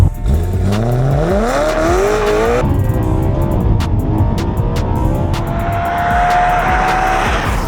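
A BMW E92 M3 with its 4-litre S65 V8 revs hard on a track, the engine note climbing steeply through the gears with tire squeal, loud and close throughout.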